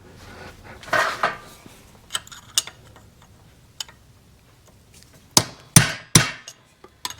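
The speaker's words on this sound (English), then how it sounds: "so I can swing the hammer" Metallic hammer blows clank irregularly on a lock washer during shift shaft work on a Yamaha enduro motorcycle, a couple of strikes early, scattered light taps, then a loud burst of several ringing hits close up.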